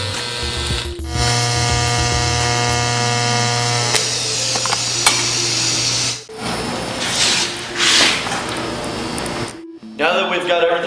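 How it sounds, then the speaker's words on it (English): Plug welding on the raked neck of a Harley bagger, a steady electric buzz and crackle with a low hum running nearly continuously, breaking off briefly around the middle and again near the end, loud and close. "let's do the plug welds"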